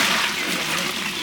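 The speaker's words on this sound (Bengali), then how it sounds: "গরম পানি দিলাম" Hot water pours in a steady gushing stream into a large cooking pot of mutton tehari, loud and close throughout with no talk.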